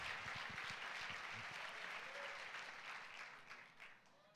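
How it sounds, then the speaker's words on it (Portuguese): Church congregation applauding during a Sunday worship service, a steady wash of clapping from many hands that fades slightly toward the end. "Dê um aplauso ao Senhor Jesus."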